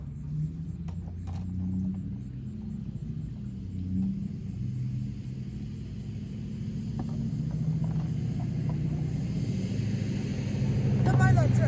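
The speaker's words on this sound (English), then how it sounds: "Don't mind that truck, guys." A diesel truck rumbles past outdoors, a low, heavy drone that swells gradually and grows loudest at the end.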